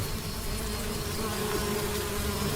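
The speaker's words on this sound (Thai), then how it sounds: "มีต่อแตนจำนวนหลายพันตัวบินตรงเข้ามาจู่โจมตน" A swarm of thousands of hornets flying in, a dense, continuous buzzing drone that fills the whole stretch at steady, fairly loud level with no voices.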